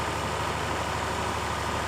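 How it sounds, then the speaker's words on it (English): A Titan Pro truck engine idles steadily at close range on a farm, a low continuous rumble with an even throb and no other sounds. "we got a Titan Pro truck coming"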